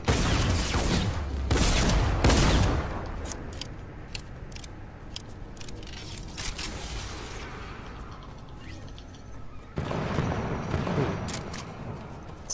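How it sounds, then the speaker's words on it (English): C4 charges detonate in the video game Fortnite as loud, broadband blasts at the start, followed by quieter game noise and then another burst of rumbling sound. "Did you hear those explosions?"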